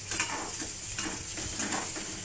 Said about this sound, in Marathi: तेल गरम झाल्यावर त्यात आपण बटाटे छान भाजून घेऊया